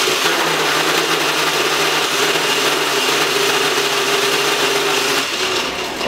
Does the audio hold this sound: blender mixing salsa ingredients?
yes